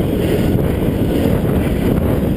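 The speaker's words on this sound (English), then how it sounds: "In a cross headwind, start turning into a slight tailwind." Steady wind roars and buffets the microphone while a Cannondale F4000sl bicycle rides into a cross headwind, a loud, continuous low rush with no voices.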